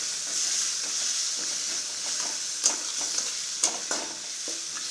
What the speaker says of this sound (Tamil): இப்போவே போட்டு ஒரு 2 நிமிஷம் வதங்கினா போதும்